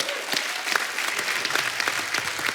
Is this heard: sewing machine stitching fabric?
no